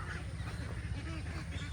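Ducks honk and quack softly as a flock walks back to its grassy area on a rural farm, low steady calls layered over one another at a moderate distance.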